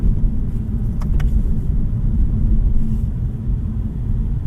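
2026 Lexus IS300h Premier hybrid driving in sport mode, a steady low rumble of road and powertrain noise heard from inside the car, with a couple of faint clicks and no voices.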